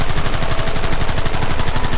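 Dense gunfire rattles without a break in Red Dead Redemption, a loud, rapid stream of overlapping shots with no pauses.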